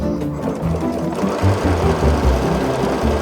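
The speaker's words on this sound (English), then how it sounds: "I'm just top stitching down that little hemmed area." A sewing machine top stitching a hemmed area on a garment bag, running close and loud with a steady rapid mechanical chatter and thumping needle rhythm throughout.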